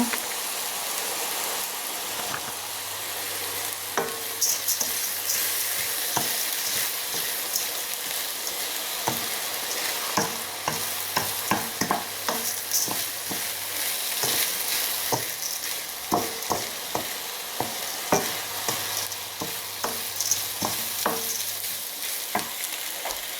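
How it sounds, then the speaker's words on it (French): Risotto rice with mushrooms and onions being stirred in a hot pan, a continuous gentle sizzle broken by irregular scraping and clicking strokes of the spoon, close and steady throughout with no talk. "Donc là je vais remuer le riz avec les champignons."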